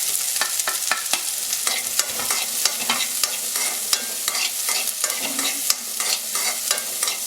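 Green chili and ginger sautéing with a little salt in a pan over low flame, a soft sizzle broken by frequent sharp scrapes and clicks of a spoon stirring.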